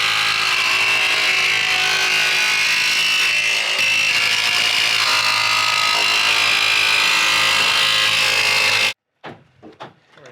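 Jigsaw cutting a window opening in a door, a loud, continuous buzzing rasp of the blade through the material for about nine seconds, then stopping abruptly, followed by a few faint knocks and rustles.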